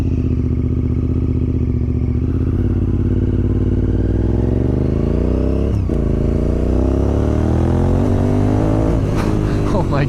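A Honda RC51 SP2 V-twin motorcycle engine roars loudly and continuously while riding, rising and falling in pitch through the gears with a sharp shift midway and revving toward the end.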